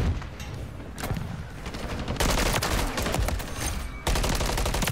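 Rapid automatic gunfire rattles in Modern Warfare 3 as an AR-style MCW rifle and other weapons fire in dense, overlapping bursts, loud and nearly continuous for a few seconds.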